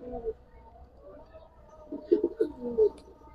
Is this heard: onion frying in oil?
no